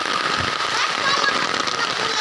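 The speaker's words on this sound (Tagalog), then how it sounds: "Umuulan dito. Sa bundok." Steady rain falls in the mountains with a dense, hissing patter of drops on surfaces, loud and continuous throughout.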